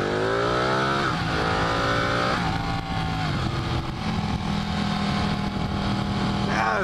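Car accelerating hard in first gear in Arizona, loud engine revving up with rising pitch, briefly dipping and climbing again in close, sustained bursts.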